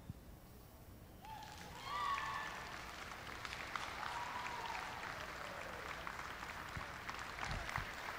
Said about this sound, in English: please receive them with a great round of applause.